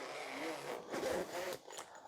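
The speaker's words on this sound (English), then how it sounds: "I also like zippers." A zipper on a ProtoArc foldable full-size keyboard case (model XKM01) is pulled open with a close, scratchy rasp that runs in a few quick strokes and then settles into small rustles.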